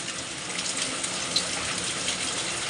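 Floodwater after Cyclone Remal rushes along a street and over a full, overflowing drain, a steady close gushing hiss with no pauses or talk.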